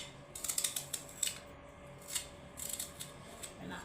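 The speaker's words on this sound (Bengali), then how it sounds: "এইভাবে আলুটা আমি কেটে নিচ্ছি।" Small potatoes being cut with a knife for a cumin curry, heard as a run of short, crisp, close scraping clicks in quick bursts, fairly quiet, with no speech.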